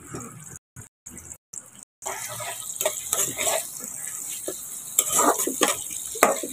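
Garlic and dried red chilies frying in oil in a pan over a wood-fired clay stove, a steady close sizzle with scraping stirs and occasional clinks, briefly interrupted near the start.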